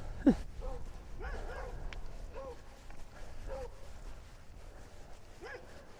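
Neighborhood dogs bark outside, distant and faint, with scattered short yips and barks under a low background hum.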